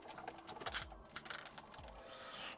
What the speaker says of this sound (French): Le bon bruit du papier collant et plastique qui se découpe.